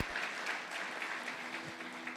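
A church congregation claps together during a sermon, a soft but continuous patter of many hands heard from a distance.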